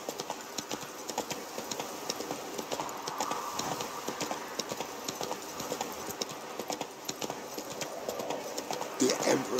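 A horse galloping in The Witcher 3, a rapid, steady clatter of hoofbeats that runs throughout, loud and close, with a voice speaking over it.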